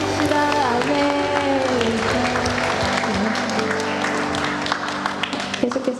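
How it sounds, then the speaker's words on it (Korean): A church congregation applauds during a Sunday worship service, steady clapping rising over lingering sustained keyboard chords and fading toward the end, with no talking. "반석 되신 주님 앞에 영광의 박수를 올려드리십시다."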